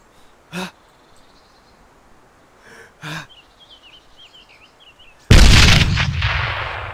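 A grenade explosion in Arma 3 bursts loud and close near the end, trailing off into a broad roar, after a few distant gunshot-like thumps over quiet background.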